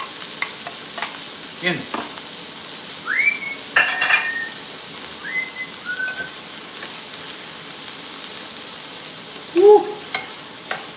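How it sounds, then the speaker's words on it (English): Vegetables sizzle steadily in hot grease in a home kitchen while utensils stir and clink against the pan. A few thin whistling tones and a short exclamation cut through. "Since we've got that hot oil, hot grease I should say, we'll do our veggie first."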